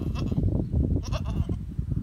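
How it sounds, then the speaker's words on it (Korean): A family of goats, big and small, gathered together in an urban home enclosure, bleating in a dense overlapping chorus of close cries. "아, 우리 염소들이, 아, 염소 가족이에요. 여기 다 모였네요."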